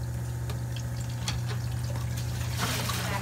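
Cold tap water runs and trickles steadily while dentures are rinsed under it, a close, continuous splashing flow with a low hum beneath and brief clinks.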